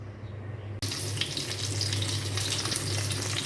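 Fish sizzles and crackles in hot oil in a home kitchen pan, starting abruptly after a short quiet moment and then sustained loud and close with steady spitting and popping, no talking.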